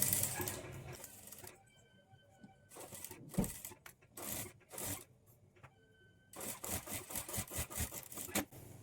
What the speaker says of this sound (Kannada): ಈ ರೌಂಡ್ ಶೇಪ್ ಹತ್ರ ಸ್ಟಿಚ್ ಮಾಡ್ಕೊಳ್ಳೋವಾಗ ನಿಧಾನಕ್ಕೆ ನೀಟಾಗಿ ಸ್ಟಿಚ್